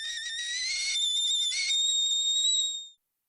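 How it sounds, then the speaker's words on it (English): Kettle whistling, a loud, shrill steady tone with bright overtones that wavers slightly in pitch for about three seconds before cutting off abruptly. "It was a kettle whistling."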